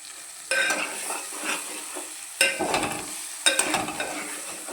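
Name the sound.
egg and tomato curry frying in a pan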